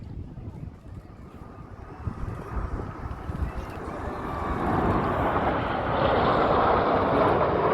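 Jets of the RAF Red Arrows aerobatic team roar overhead in short diamond formation at the Midlands Air Festival, the sound swelling from a distant rumble to a loud, broad roar with wind buffeting the microphone.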